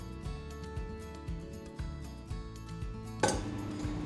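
Ingredients being mixed together in an oven dish, giving repeated soft clinks and scrapes of a utensil against the dish at an uneven rhythm, close by, ending in a sharper clatter near the end.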